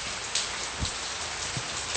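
Rain falls at night as a steady, even hiss of drops on a surface, with a couple of soft low thuds. No voices are heard.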